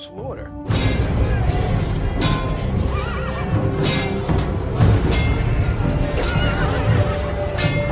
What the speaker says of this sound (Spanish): el relincho de dolor de un caballo